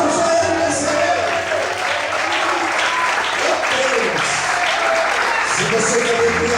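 Church congregation applauding steadily for several seconds, a dense continuous wash of many hands clapping with voices mixed in underneath.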